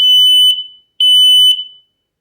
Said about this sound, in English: That's what mine sounds like.